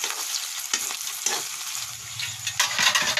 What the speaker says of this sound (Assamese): এইখিনি এতিয়া অকণমান ভাজি লওঁ।